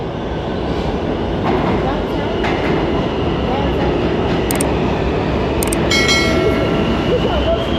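A New York City subway train rolling loudly and steadily, with a continuous roar, rail clatter and occasional high metallic squeals and tones near the end.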